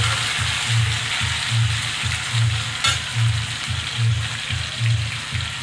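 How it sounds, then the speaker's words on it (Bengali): Potato pieces fry in a pan of hot oil for soybean curry masala, a continuous close sizzle broken by regular stirring scrapes roughly every second. "আলু কটা আমি ভেজে নেব।"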